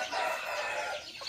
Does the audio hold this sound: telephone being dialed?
no